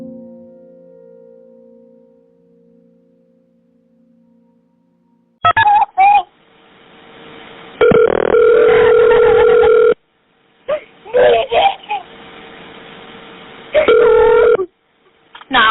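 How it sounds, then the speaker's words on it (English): A telephone sounds a steady dial tone, then a series of short keypad tones as 911 is dialed, with a long tone between the button presses and a faint voice at the start. "she picked up the phone and dialed 911."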